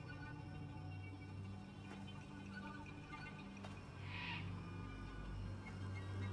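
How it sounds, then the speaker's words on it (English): A bird calls inside a truck in the game The Quarry, one brief hooting cry rising out of a low, steady rumbling ambience. "Bird in the truck."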